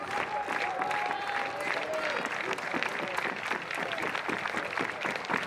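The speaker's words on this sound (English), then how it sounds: "One and two, claps for Bennett, and it's fought off." A college baseball crowd at a Boston College vs Clemson game claps steadily and fairly loudly for several seconds, a dense, even patter of many hands with a faint murmur underneath.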